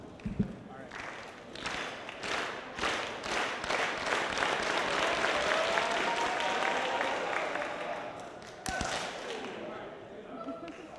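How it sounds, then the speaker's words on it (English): An audience in a student government senate meeting claps in a room, irregular hand claps building into dense, loud applause before tapering, with a few sharp claps near the end. "So what I want everyone to do is start slow clapping real fast."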